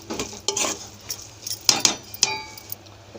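Sweet pongal (chakkera pongali) being stirred in a pot with a spoon, giving several separate scraping, clinking strokes that are close and moderately loud with short pauses between them, with no voices.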